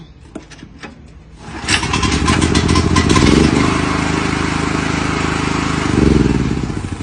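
A new 9 hp petrol engine for a generator or water pump, started by pulling the recoil starter, catches and runs with a loud, steady clattering roar that swells and eases, after a few faint tugs.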